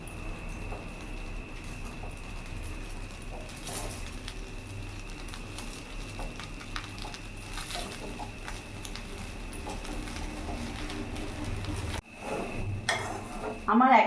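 Chicken fried rice being stirred in a hot pan after a little sugar is sprinkled in, giving a steady scraping, clattering mix that runs throughout and grows louder near the end.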